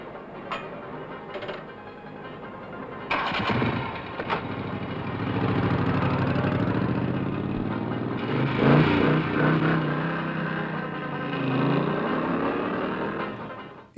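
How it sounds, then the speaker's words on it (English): A Moto Guzzi V7 motorcycle engine idles, then runs with a steady low throb and revs that swell and ease, fairly close and with no talk. "Here she is riding a Moto Guzzi V7, one of the biggest bikes of the era."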